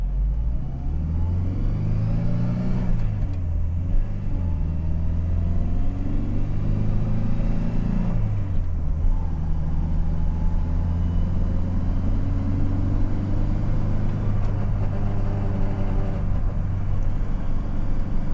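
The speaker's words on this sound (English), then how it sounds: "There is some more transmission noise coming from the tunnel" A Volvo 240 with a swapped T5 manual transmission drives along, producing a steady, close, low engine and drivetrain rumble from inside the cabin. Revs rise and fall slightly throughout.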